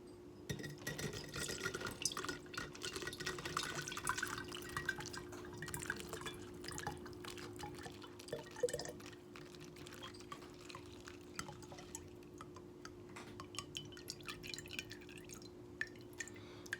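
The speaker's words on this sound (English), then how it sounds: "I'm going to do the first pour through." Aloe vera oil trickles and drips steadily through a sifter, with scattered small splashes and a faint constant hum underneath.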